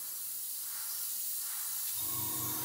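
Spray paint hissing across masking tape on a handmade mask, a steady close airy hiss running throughout that gets slightly rougher near the end.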